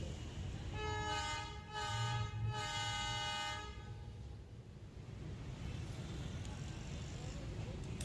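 A train near a railway crossing sounds a loud, sustained horn in two long blasts, followed by a steady rumble with traffic noise; people talk in the background.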